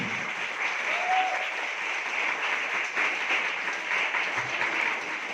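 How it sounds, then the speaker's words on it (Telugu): An audience gathered for a testimony breaks into sustained applause to welcome a woman to the stage, a dense, even patter of many hands filling the room. "చప్పట్లు కొట్టి ఆహ్వానిద్దాం సిస్టర్ శశి"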